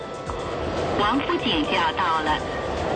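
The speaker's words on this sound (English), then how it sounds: "what if you're on a crowded train?" A crowded Beijing subway train rumbles steadily along the track, with a dense low roar, faint squeals and muffled voices in the carriage.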